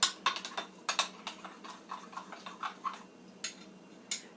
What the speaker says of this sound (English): All we do at this point is we stir it up.